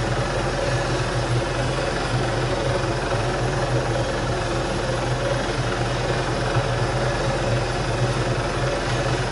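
A helicopter in the Arma 3 flight simulator hovers and manoeuvres with a steady, loud rotor thrum and engine whine, continuous and close throughout with no speech.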